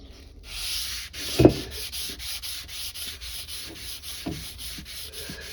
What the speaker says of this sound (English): we're gonna hit it with 600 grit paper.